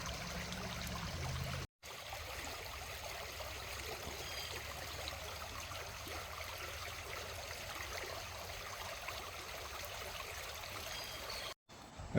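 Creek water flows in a steady, close rushing babble that runs unbroken apart from two brief cuts, with no talking over it.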